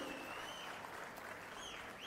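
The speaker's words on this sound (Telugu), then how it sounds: "గట్టిగా చప్పట్లు కొట్టి అభినందించండి" An audience at a public meeting applauds with a faint, distant, steady patter of clapping that holds evenly for about two seconds.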